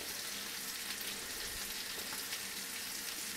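Oil sizzles steadily on a heated grill being prepared for mutton chops, a continuous soft hiss with no talk over it.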